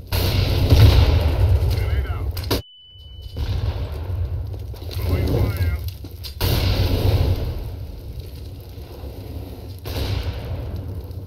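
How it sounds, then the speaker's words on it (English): A flashbang grenade goes off in a Counter-Strike: Global Offensive match with a sharp blast, then a sudden near-silence and a thin, steady ringing tone before loud gunfire and game noise return; voices talk over parts of it. "Deploying flashbang."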